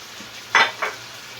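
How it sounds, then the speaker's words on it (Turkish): Tomato and onion salad being stirred, two short soft moist scraping swishes close by, one after the other, against a quiet background. "şimdi salatamızı karıştırıyoruz"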